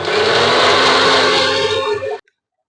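A mixer grinder whirs loudly and steadily, blending paneer, coriander, mint, green chili and curd into a paste, then cuts off abruptly to silence.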